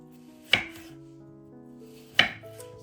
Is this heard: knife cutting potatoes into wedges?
yes